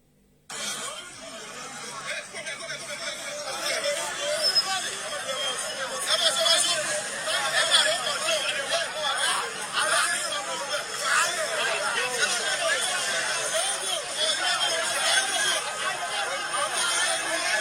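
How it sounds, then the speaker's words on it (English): A large outdoor crowd at a gathering keeps up a steady hubbub of chatter, laughter and shouting. Several voices overlap close by, and the noise stays at an even level. "You see the crowd."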